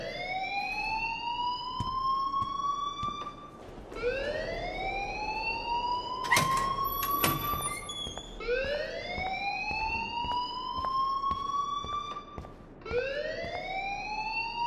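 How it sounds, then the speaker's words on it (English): A fire alarm rings in the video game Life is Strange, a loud electronic siren sweeping upward in repeated whoops about every three seconds, with a few sharp clanking hits partway through. "please turn off that alarm since that's your"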